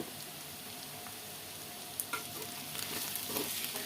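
Potato curry sizzles in a pan while being stirred, a continuous soft frying hiss with faint scraping of the spoon, fairly quiet and without talk.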